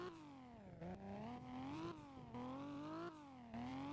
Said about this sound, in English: Now you can hear the repaired 6-cylinder engine, music to the ears.